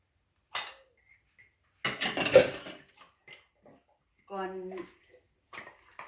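Dishes and cutlery clatter and clink as they are loaded into a dishwasher at home, several separate close knocks and rattles between stretches of quiet, with someone talking in between.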